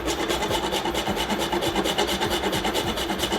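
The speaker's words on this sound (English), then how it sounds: "To this mixture, you're going to grate some fresh nutmeg." Fresh whole nutmeg grated for a spicy chicken rigatoni cream sauce, a steady close rasping scrape repeating in quick even strokes, with no talking.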